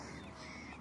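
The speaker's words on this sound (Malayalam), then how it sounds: "സൗണ്ട് കേട്ടപ്പോൾ തന്നെ നമുക്ക് കാക്കയാണ് മനസ്സിലായുള്ളൂ" A single crow caws briefly, faint and distant against a quiet outdoor background in Kuwait.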